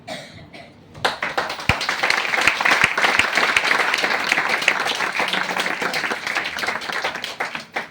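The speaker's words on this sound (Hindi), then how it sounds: "ताली बहुत धीरे से इसलिए बजाना कि किसी को समझ में नहीं आ रहा" Soft, deliberately quiet applause from a group at a talk, many hands clapping continuously for several seconds, fairly close and even in level.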